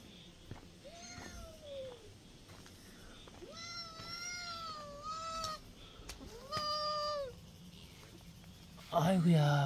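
A cat meows several times, drawn-out rising and falling cries spaced a second or two apart, with faint background noise and a brief clatter at the end.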